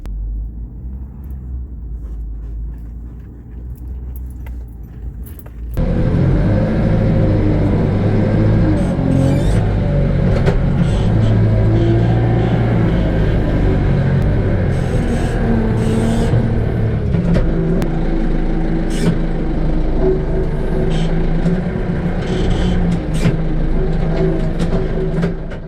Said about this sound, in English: So I'm going to take the tractor and I'm going to do that first.